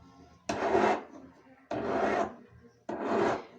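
A metal ring shank is hand filed in three distinct rasping strokes, each a short, close scraping burst separated by brief pauses.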